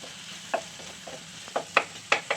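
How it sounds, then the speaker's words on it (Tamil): Ginger and garlic sautéing in a pan for egg gravy: a low sizzle broken by several quick spatula scrapes and taps, growing more frequent toward the end. "இஞ்சி பூண்டு இந்த அளவு வதங்கினா போதும் ரொம்ப வதங்கணுன்ட்டு இல்லை"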